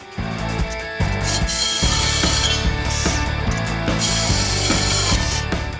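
A power drill whirs steadily at close range while drilling a hole in a Shelby Cobra replica car, its motor sound broken by short stops and restarts as the bit bites in.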